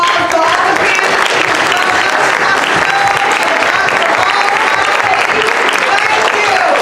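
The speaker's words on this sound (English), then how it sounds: "Let's give a round of applause to all the candidates." A crowd at a Dayton, Ohio voting rally gives loud, dense applause for the candidates, a sustained wall of clapping with some voices mixed into the noise.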